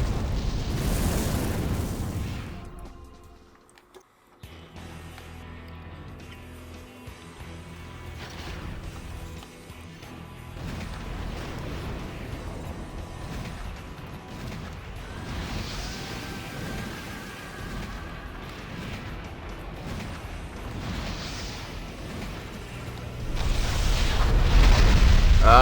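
Missile explosions in the mech game Armored Core: For Answer, with heavy booms and crashes that rise, fade into a low rumbling stretch, then swell into a loud burst of blasts at the end.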